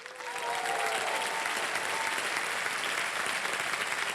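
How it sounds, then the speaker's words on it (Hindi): A studio audience at a televised quiz show claps loudly and continuously for contestants receiving prize cheques, the applause swelling in quickly and holding steady to the end. "ताली बजती रहे इन लोगों के लिए"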